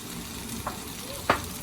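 Chili powder, coriander powder and turmeric frying in a pan give a steady, moderate sizzle, with two short scraping stirs of a utensil standing out near the middle and end.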